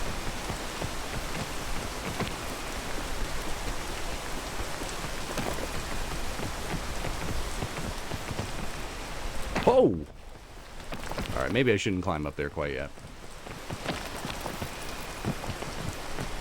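Rain pours steadily in the PC video game PEAK, a constant hiss of drops that briefly drops out around a sudden disturbance before resuming, with someone talking over it.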